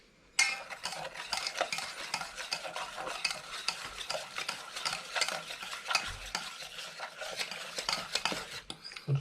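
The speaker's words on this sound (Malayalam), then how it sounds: "ജസ്റ്റ് ഒന്ന് ഇളക്കാം" Egg bajji batter of flour, chilli powder, yeast, salt and water being stirred in a bowl, a steady, busy scraping and swishing that runs without pause and without any talk.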